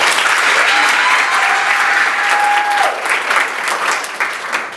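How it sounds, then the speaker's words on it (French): Wedding guests applauding loudly and continuously, a dense burst of clapping from a large crowd with a brief tonal whine running through it. "que je vous demande d'applaudir très fort."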